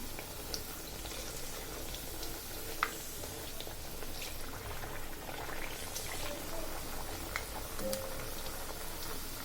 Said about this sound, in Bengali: দুটো পিঠা আমি তেলে দিয়ে দিলাম।